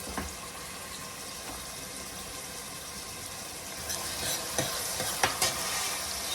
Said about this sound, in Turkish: Hemen yıkayıp yağın içine atıp kavururum